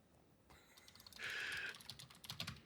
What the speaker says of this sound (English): Getting really good typing action over on your end here.